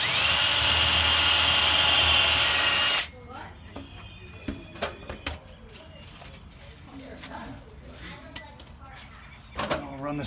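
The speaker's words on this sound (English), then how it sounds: "pre-drilling this hole with a 3/16." A power drill pre-drills a 3/16 hole while a security door is installed, a loud high whine for about three seconds that stops abruptly, followed by quiet handling clicks and knocks.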